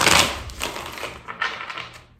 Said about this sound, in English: Shuffle this one more time.